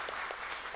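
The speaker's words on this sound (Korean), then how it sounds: "박상철 교수님께 좀 박수 한번 해주시죠" An audience at an awards ceremony for public-institution innovation gives a brief round of applause for a professor, a soft, distant patter of clapping lasting under a second.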